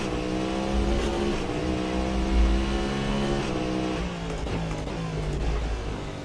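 Cadillac V-Series R race car in Assetto Corsa, its engine droning loud and close with rising and falling revs as the throttle is fed in and eased off, with a low rumble and brief tyre noise.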